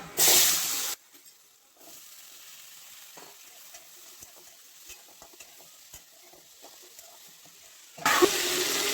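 Water is poured into a hot pan of cooking potatoes with a loud sizzling hiss, then a quieter simmering bubble, and another burst of sizzling at the end.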